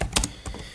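Keys tapping on a computer keyboard as a word is typed, a few quick clustered clicks with short pauses between them, close and fairly quiet with no voices.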